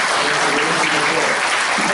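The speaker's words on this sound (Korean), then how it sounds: "우리 유종근 우리 전 지사님께 오히려 큰 격려의 박수를 좀 드리는 것 같습니다" An audience at a Korean parliamentary economic forum breaks into brief, dense applause, a continuous wash of many hands clapping together at full, even loudness.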